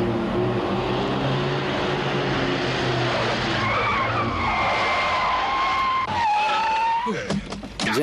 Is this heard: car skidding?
yes